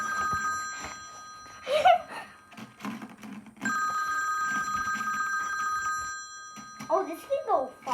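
An old phone ringtone sounds as a sustained electronic ring in two long bursts, with people talking and exclaiming in the gaps between and over it.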